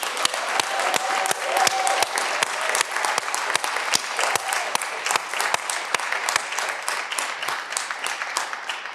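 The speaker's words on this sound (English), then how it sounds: "Give yourselves another round of applause." Graduates at a 2021 commencement for Tufts International Relations and Middle Eastern Studies break into a sustained round of applause: dense, loud clapping from a crowd that keeps going steadily throughout.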